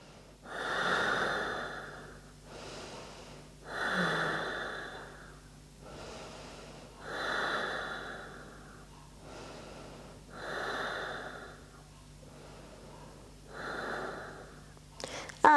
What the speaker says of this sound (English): Breathe deeply in the belly.